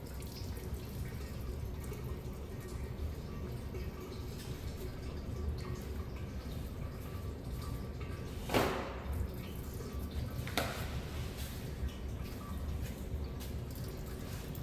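Transmission fluid draining from a car into a pan, a continuous trickling, dripping liquid stream under a steady background hum, with a couple of brief louder splashes midway; no one speaks.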